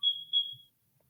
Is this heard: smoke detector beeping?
yes